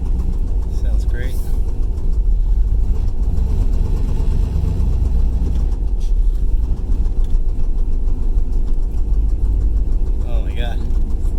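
A turbocharged Camaro IROC idles close by with a continuous rough, low rumble throughout, and voices come and go over it.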